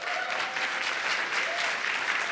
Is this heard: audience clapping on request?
yes